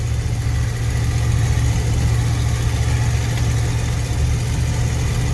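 A 1994 Ford F150 pickup with a C6 automatic transmission, its engine running steadily just after shifting into third around 30 mph: a continuous, fairly loud low drone with road rumble and no talk.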